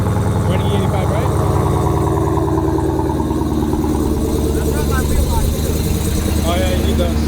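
A Dodge Hellcat V8 running E85 idles after a cold start with a steady, deep, throbbing rumble that stays loud throughout, with faint voices under it.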